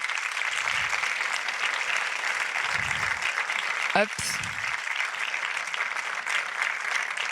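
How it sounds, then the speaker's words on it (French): Audience applause welcoming a guest onto a festival stage, sustained dense clapping from a sizable crowd with a short spoken exclamation and a brief knock near the middle. "On l'applaudit très fort"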